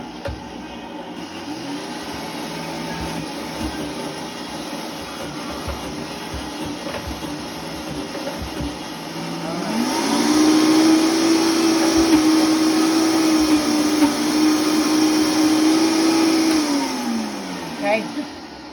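A kitchen blender pureeing horseradish with water and vinegar, a steady loud motor whir that rises into a higher, strained pitch for several seconds and then drops back, with voices talking over it.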